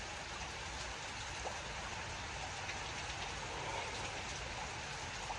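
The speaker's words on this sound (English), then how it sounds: "It's storming down here." Steady rain falls during a storm under a tornado watch in South Carolina, a dense, even hiss of drops on surfaces that continues unbroken without talk.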